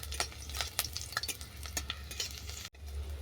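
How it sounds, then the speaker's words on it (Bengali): Chopped garlic fries in hot oil until browned, a steady close sizzle broken by light scrapes and taps of a stirring utensil against the pan. "বেশ বাদামি করে ভেজে নিতে হবে রসুনটাকে।"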